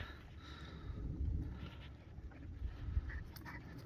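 A dog panting after playing frisbee, soft rapid breaths repeating close by at low volume over faint outdoor background noise, with no talking.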